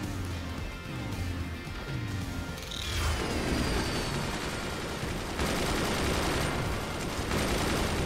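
Weapons and missiles firing in the video game Forts, a dense barrage of rapid gunfire and crashing impacts with mechanical clatter, shifting into a louder roaring volley partway through, with no speech.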